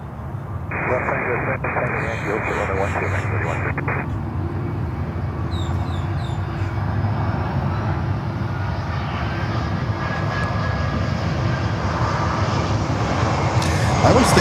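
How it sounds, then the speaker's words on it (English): An American Airlines airliner at Miami Airport rumbles with a continuous engine roar that grows slightly louder toward the end, with a brief radio-like tone early on and people talking over it. "it's American Airlines"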